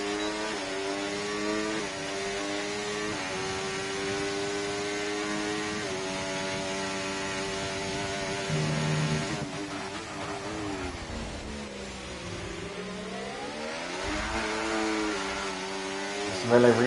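F2 race car in the F1 24 video game at the Austrian GP, a sustained engine whine climbing and dropping through gear changes, loud and continuous with no talk over it.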